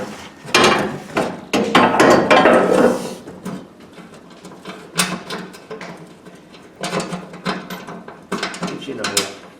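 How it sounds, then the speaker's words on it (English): Hammers strike a bearing cup on the auger of an MTD Yard Machine 10 hp, 30-inch snow blower, making clusters of sharp metallic knocks and clanks in irregular bursts, close and loud. "I'll start whacking on it with hammers different ways"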